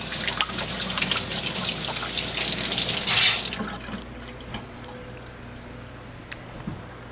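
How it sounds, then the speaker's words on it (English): Tap water pours steadily into a sink during hand washing, a close, continuous splashing rush that stops abruptly partway through, leaving quiet room tone and a few small clicks. "wash my hands."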